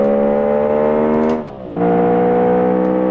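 A steady, droning engine tone with layered harmonics, NASCAR-like, holds loud and continuous, dipping briefly in the middle before resuming at the same pitch, like a race car in the game Automation.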